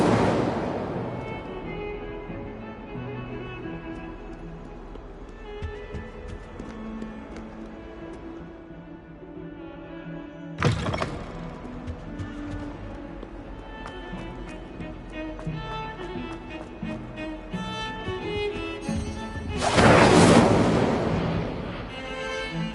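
Incendio fire spells cast in a Harry Potter video game, with two sharp whooshing bursts of flame standing out against a busy game soundscape of music and effects, the later burst louder and longer.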